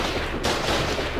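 Dense, continuous battle noise from the video game Foxhole as artillery fire pounds a fortified wall, a steady loud wash of overlapping blasts with a sharp jump in intensity partway through, no voices.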